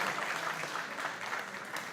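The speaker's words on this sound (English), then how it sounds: "a round of applause for the presentation" Steady, dense applause from an audience after a presentation at an ICT for Africa conference session, a continuous even wash of clapping with no voices on top, close and fairly loud throughout.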